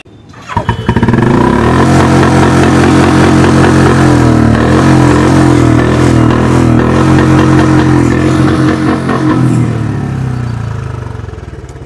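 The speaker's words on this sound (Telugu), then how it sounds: "మీరు సైలెన్సర్ మోడిఫై చేసి ఎక్కువ సౌండ్ వచ్చేటట్టు మీరు క్రియేట్ చేసుకున్నారు కదా" A motorcycle fitted with a modified loud silencer starts up and revs hard close by, a loud throaty roar with rising and falling revs that fades slightly at the end, with no talking.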